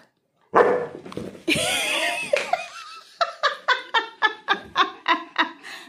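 A Labrador barks repeatedly in a quick, even series of sharp yaps close by, after some excited vocal sounds at the start.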